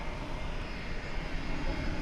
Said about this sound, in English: It is a Dreamliner. It's lining up for takeoff.